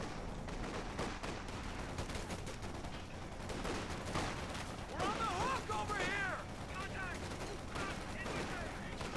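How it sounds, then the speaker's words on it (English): A .50 cal machine gun fires in the video game Company of Heroes 2, with rapid bursts of gunfire mixed into a busy battle soundscape at moderate level, alongside other game effects. "That's 50 cal."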